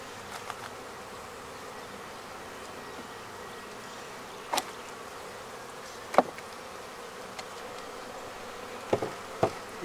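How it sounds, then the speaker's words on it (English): Honeybees buzz around hive frames during winter beehive preparation, a steady, moderately soft drone with a few sharp knocks and clicks scattered through it. "Watch out, bee."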